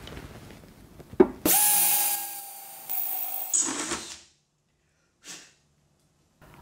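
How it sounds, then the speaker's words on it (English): A Bosch GSR 1080-2 Li drill/driver drills into metal in a short burst of about three seconds. A brief faint scrape follows before silence. "And even drilling into metal is fast,"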